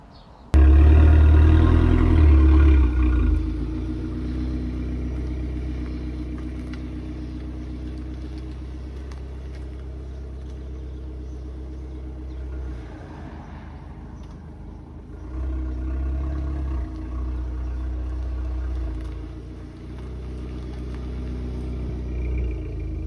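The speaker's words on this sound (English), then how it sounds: "at idle it sounds like this." A standard Jaguar XK8/XKR idles with a steady low rumble, briefly louder at the start and swelling slightly midway, close and alone with no voices.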